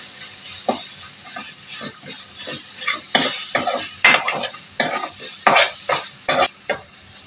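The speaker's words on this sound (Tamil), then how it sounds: "பூண்டு கொஞ்சம் நல்லா வதங்கட்டும்." Thinly sliced garlic sautéing in a hot pan for garlic pepper rice, with a steady sizzle broken by repeated louder scraping bursts as a spoon stirs it, close and with no talking.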